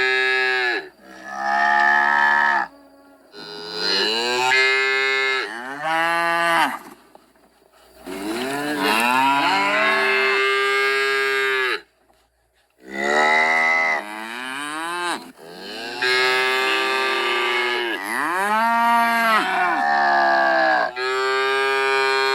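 Loud, drawn-out cow moos, one after another with short pauses, close and clear.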